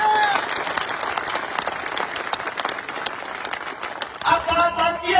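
An audience at a Rajasthan election rally in Jhunjhunu breaks into loud, sustained applause that rises and falls across the moment, with a voice coming through near the end.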